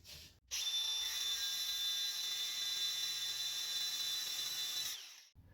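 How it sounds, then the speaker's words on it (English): A power tool cuts into a seized, rusty circlip and solid metal wheel knuckle during a front wheel bearing job, a loud steady grinding whine holding for about four seconds alone before stopping abruptly. "I'll cut into the old CIRCLIP and a little bit into the wheel knuckle."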